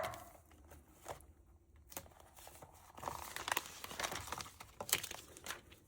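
Cellophane wrap being handled for a homemade Valentine gift, crinkling and crackling in bursts that grow busier and louder toward the end, close by, with no talk.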